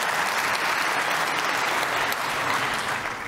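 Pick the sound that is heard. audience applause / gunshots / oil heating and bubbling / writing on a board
audience applause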